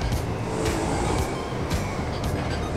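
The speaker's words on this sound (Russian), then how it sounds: "Мне кажется, это трамвай." A tram in the GTA 5 video game rolls past with a steady, dense rumble and rattle of wheels on rails, mid-loud and continuous throughout with no talking.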